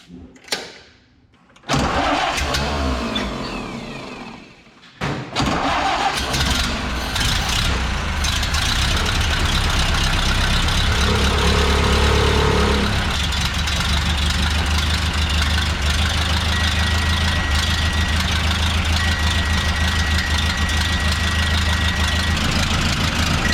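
A 1929 Model A Ford Tudor sedan engine cranks after a brief quiet stretch, catches and settles into a loud, steady idle with a low rumbling drone that continues to the end.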